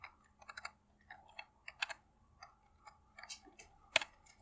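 Someone types on a computer keyboard in short, irregular bursts of quiet, close key clicks, with one sharper tap near the end and no speech.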